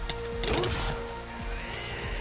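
Steady rain falls across a blocky Minecraft world, a soft continuous hiss that stays even through the whole stretch, mixed with faint game sounds and brief voice-like bursts.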